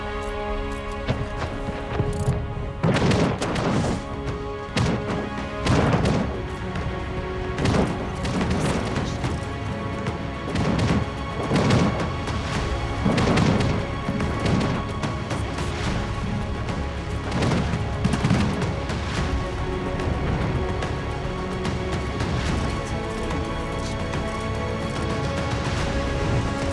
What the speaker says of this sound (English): Flamethrower obviously shooting my battle cruiser